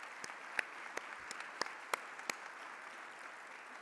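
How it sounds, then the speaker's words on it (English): Sparse, quiet applause at an investment conference, a few scattered individual claps standing out over a faint hiss, thin and brief rather than a full ovation. "Please join me in applauding these wonderful people."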